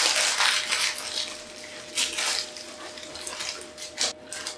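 A bacon roly poly roll gets wrapped loosely, giving a loud, close crinkling and crackling of paper or foil in irregular bursts, with no talk.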